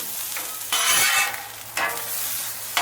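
Onions with a little oil hitting a hot Blackstone griddle, a bright sizzle that swells in two bursts as they are stirred and spread, close and loud with no talking.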